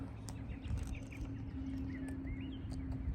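Birds chirp and whistle in short scattered calls over a steady low hum and outdoor background, faint and somewhat distant, with no one talking.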